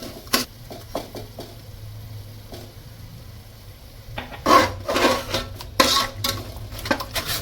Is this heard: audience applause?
no